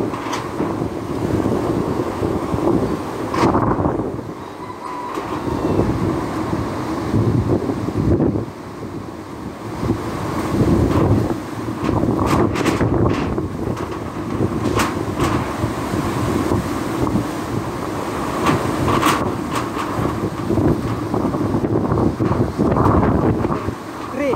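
Strong typhoon wind buffets the microphone in Camarines Norte, a steady roaring gust-noise across the whole stretch with surging peaks and no pauses, loud and close throughout.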